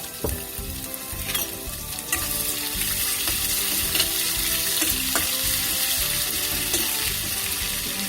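Homemade ginger, garlic and green chili paste fries loudly in a pan for a potato dish, a close, continuous sizzle with intermittent stirring scrapes.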